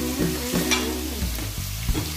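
Shrimp hitting a hot pan for buttered shrimp, giving a steady loud frying sizzle with stirring clatter and scraping throughout, no talk.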